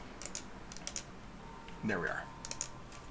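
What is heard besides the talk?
typing on a computer keyboard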